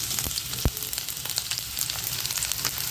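Onions sautéing in a pan for onion chutney give a close, steady crackling sizzle with a few sharp spatters and stirring scrapes, no voices over it.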